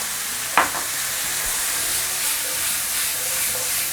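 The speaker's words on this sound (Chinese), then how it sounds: "炒香过后，下入这个青瓜，" Cucumber being stir-fried in a wok with mushrooms, garlic and scallion, a steady close sizzle and hiss with a single sharp clatter of stirring near the start, no talking.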